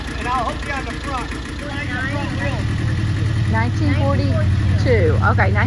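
A vintage 1942 tractor engine idles with a steady low rumble that continues throughout, while people talk over it nearby.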